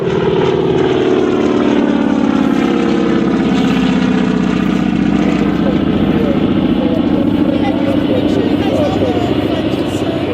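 A propeller aircraft powered by a big 1,900-horsepower Wright R2600 radial engine roars loudly and continuously at the 2015 Geneseo airshow, its deep drone shifting slightly in pitch as it passes.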